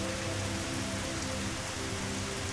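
Steady rain in the video game Dig or Die patters evenly without a break, a dense hiss of drops over a faint low tone.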